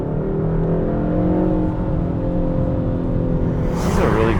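2021 Kia K5 GT engine pulling hard from a launch control start, a steady loud rising drone held throughout, with a brief scuffing burst near the end.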